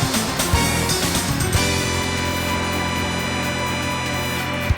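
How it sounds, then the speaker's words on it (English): The Gran Turismo 2 gold license jingle, used as a stream subscriber alert, plays as loud, dense sustained electronic chords with a few sharp accents near the start, steady to the end. "that's the sound you can hear for a gold license in Gran Turismo 2"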